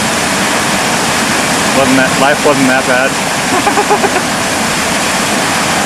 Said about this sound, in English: Got to stand next to a creek on a mountain and make movies